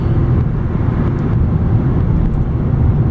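A 1996 Honda Accord LX with a five-speed manual gearbox drives along a twisting road, heard as a steady, loud low rumble of engine and road noise with no breaks.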